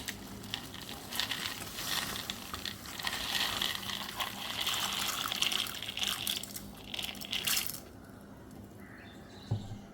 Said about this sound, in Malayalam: നന്നായിട്ട് വെള്ളം തിളച്ചിട്ടുണ്ട് ഒരു കപ്പ് പാസ്ത ഇട്ട് കൊടുക്കുകയാണ്